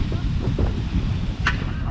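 Strong wind gusts around a tall flagpole at a construction site, a steady, rough roar of wind buffeting the microphone with low rumble throughout.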